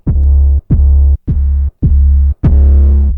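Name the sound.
808 bass on MPC Key 37 with distortion plugin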